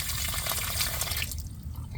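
Water rushes through a newly plugged-in irrigation drip hose with a little air in the line, a steady close hiss and gurgle that eases slightly toward the end.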